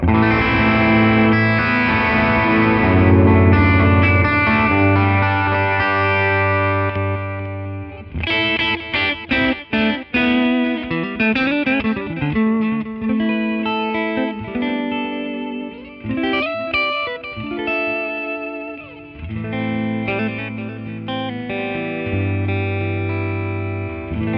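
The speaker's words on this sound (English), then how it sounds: "Deep, clean chord." Deep, clean electric guitar chords from a guitar plug-in ring out and sustain, with passages of picked notes and strums in between, played alone without any talking.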